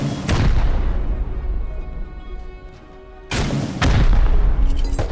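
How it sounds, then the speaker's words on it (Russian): Heavy gunfire and explosions in a multiplayer clan-war shooter game: a dense barrage of loud booms and shots, a brief dip in the middle, then another sharp burst of blasts and continued firing. "Ты стреляешь или кто стреляет?"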